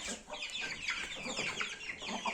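Chickens and small chicks cluck and peep continuously close by, a dense overlapping chorus of short calls with no voices.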